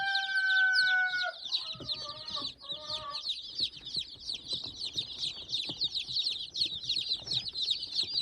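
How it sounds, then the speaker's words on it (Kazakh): A brood of Kuchin and Amrox chicks keeps up a dense, continuous chorus of high cheeping close by, over a few brief drawn-out tonal calls at the start. "Міне менің кучинкаларым менен"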